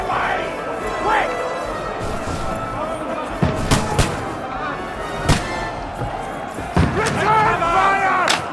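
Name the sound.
gunfire in Kingdom Come: Deliverance 2 video game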